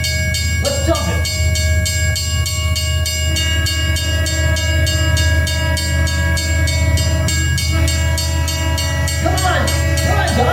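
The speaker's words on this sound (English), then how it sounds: "Hey, train's coming." A train passes close by, making a loud, steady rumble and rhythmic rail clatter. A ringing bell and sustained horn-like tones sound over it throughout.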